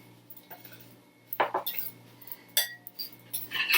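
Shrimp being mixed with thyme and garlic in a bowl, a few sharp clinks and scrapes of a utensil against the dish between quiet pauses, close by.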